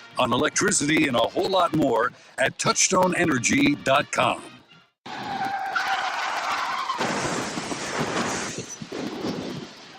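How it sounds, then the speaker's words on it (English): A car's tires skid in a crash sound effect, loud and broadband, running through the second half after a stretch of talk about an energy co-op. "That's the sound of a big hit on you and your car or truck."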